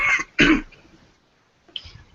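Two sharp, close coughs come in quick succession, followed by a quieter throat-clearing rasp after a short pause, with no talking.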